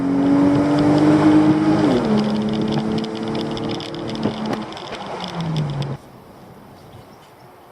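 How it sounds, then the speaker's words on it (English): A BMW on a test drive after a radiator repair, its engine humming steadily with a falling tone as it shifts, then the cabin noise drops off near the end; no one speaks. "I've completed the test drive to check the radiator works"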